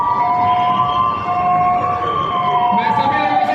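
An ambulance siren wails during an emergency evacuation drill, a loud steady tone that slowly bends in pitch over a busy outdoor crowd with voices in the background.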